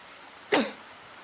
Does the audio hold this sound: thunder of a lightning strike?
no